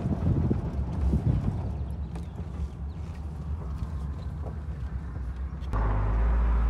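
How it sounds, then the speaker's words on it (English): A 1948 Chrysler with Fluid Drive pulling away in third gear without the clutch, its engine a steady close rumble with wind buffeting the microphone, swelling louder near the end. "right now you're taking off in third gear, right? Without the clutch?"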